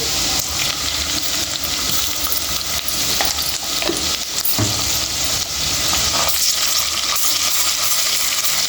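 Ginger garlic paste frying in a pan for a tomato egg curry, giving a loud, steady sizzle throughout, with occasional stirring scrapes and no talking.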